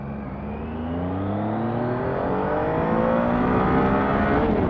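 A car passes along a road, its engine tone climbing steadily as it draws nearer and grows louder, with no talking.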